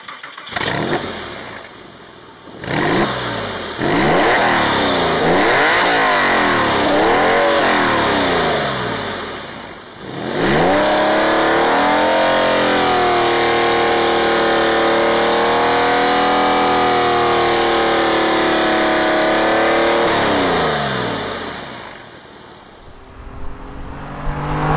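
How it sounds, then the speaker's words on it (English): A Porsche 996 Carrera 2 with a manual gearbox and a Dansk Sports aftermarket exhaust is revved hard. Repeated loud, rising and falling blips lead into a long sustained rev held near, then a drop back toward idle, with no talking. "this is my 996 C2 manual and it's got Dansk Sports exhaust on it"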